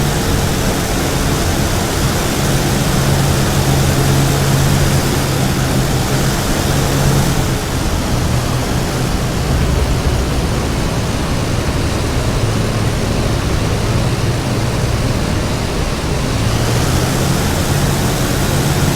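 A P-51D Mustang engine drones steadily on landing approach in DCS World, a loud continuous propeller roar with wind noise that holds nearly constant throughout.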